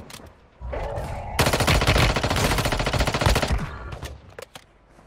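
Automatic weapon fire in the shooter Warzone Mobile, a long rapid burst of close, loud shots lasting a few seconds, followed by a few scattered single shots and quieter game ambience.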